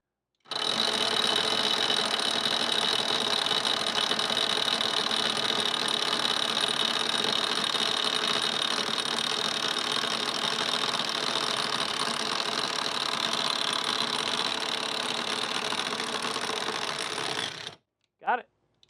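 A Hyper Tough 12V brushless 3/8-inch impact wrench hammering steadily on a stuck nut, a dense continuous rattling buzz lasting about seventeen seconds at close range, then cutting off with a short final burst.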